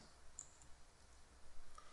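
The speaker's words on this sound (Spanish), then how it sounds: "Damos clic en el botón" Mouse clicks on a button in Excel 2010, faint and sparse, heard as one or two soft clicks against quiet room noise.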